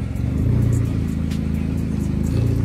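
An idling car engine rumbles steadily through the exhaust at a state inspection station, a close, continuous low drone with a faint rise in pitch now and then.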